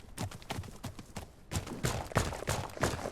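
Horse hooves in The Legend of Khiimori video game, a rapid, even clip-clop of repeated hoofbeats, moderately loud and close, with a short pause before the beat picks up again.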